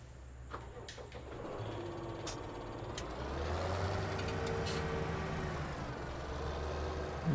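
Deutz tractor engine in Farming Simulator 17, a steady low diesel drone that rises slightly in loudness partway through and holds close and continuous, with a few faint high tonal clicks over it.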